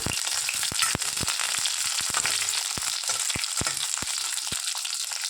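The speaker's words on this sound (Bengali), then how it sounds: "এবারেতে দিচ্ছি সজনে ডাঁটা। একটু অল্প একটু ভাজবো।" Drumsticks (sajne data) lightly frying in oil for a Dhaka Bikrampur-style okra and drumstick dal, a continuous close sizzle broken by sharp pops and crackles scattered irregularly throughout.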